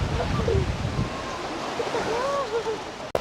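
Sea waves washing onto a white-sand beach at a resort, a steady broadband wash of surf with wind noise on the microphone, while people talk nearby over it.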